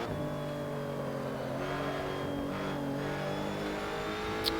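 A Ginetta GT4 racing car engine roars steadily in the Assetto Corsa video game, a sustained near drone with gently shifting pitch as the car holds speed, with no talk.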